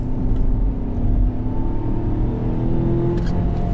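Ford Bronco Sport with a turbocharged four-cylinder accelerating hard on a sloppy winter road, a steady low engine drone building under throttle from inside the cabin, no talking.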